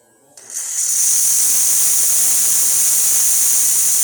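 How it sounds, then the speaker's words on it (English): The steam wand on a Pasquini Livia 90 espresso machine, just serviced, opens up after a brief quiet moment and settles into a loud, steady, forceful hiss that runs on evenly to the end. "So we're still able to get really nice, strong steam."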